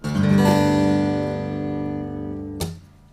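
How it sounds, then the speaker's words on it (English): A single strum on an acoustic guitar in open G tuning, the full chord ringing out loud and decaying slowly, then a brief muted knock near the end. "is in G tuning on the guitar, which sounds like this."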